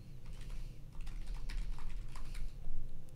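Someone types on a computer keyboard, a quick, uneven patter of light key clicks close by over a faint low hum, with no one speaking.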